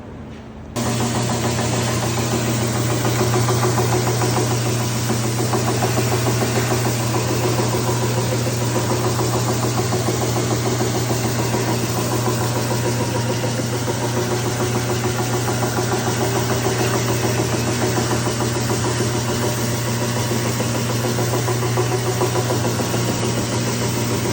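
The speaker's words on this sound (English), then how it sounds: "So now I can go to the sander and I can sand to my line" Power sander working the top of a round white oak end table, a loud steady motor whine with a constant hum that runs unbroken nearly the whole time after a quick start, close by with no talk.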